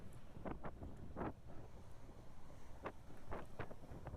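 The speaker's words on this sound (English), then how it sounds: "Lovely windy day for a walk." Wind gusts across a stormy beach at low tide after days of storms, a faint, steady rush with soft buffeting bursts on the microphone.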